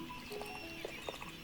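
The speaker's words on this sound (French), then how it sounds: "Et là, on a les deux nouveaux chevaux magiques." A magic horse in the video game Star Stable gives faint hoof clip-clops and short whinny-like calls over a constant soft game background.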